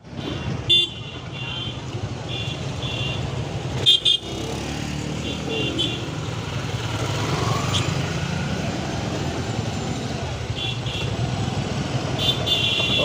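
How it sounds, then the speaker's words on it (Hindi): Dense, heavy road traffic of cars and motorcycles on a congested road in Karimganj, Assam, during a boat race crowd: a continuous engine roar with brief horn toots near the start and around four seconds. "इतना ज़्यादा ट्रैफिक है, आप लोग देख सकते हो।"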